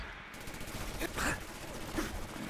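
Mini nuke fired twice in Fallout 4, two bursts about a second apart, each swelling into a loud blast over a steady game soundscape.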